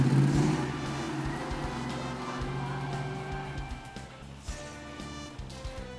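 A car engine revs and pulls away, a loud rising roar at first that settles into a steady running hum with a few knocks and clunks, alone without talk.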